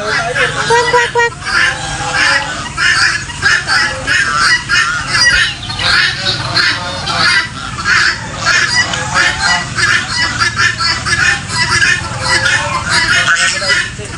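Loud, constant honking from many farm geese, a dense chattering chorus that never lets up, with faint talk mixed in.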